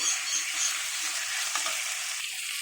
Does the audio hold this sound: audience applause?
no